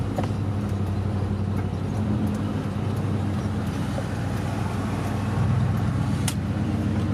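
A Chevy pickup from the 1988–94 generation, partly torn apart, drives along with a steady low engine and road rumble filling the cabin, close and continuous, with no voices.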